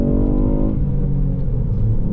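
Engine of a Ford Fiesta ST Mk8 heard from inside the car, a loud, steady low rumble with a humming tone that eases off after a moment and settles into a continuous drone.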